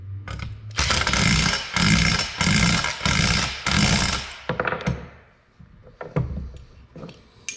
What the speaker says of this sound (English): we're gonna get an Allen key, tighten these nuts down right here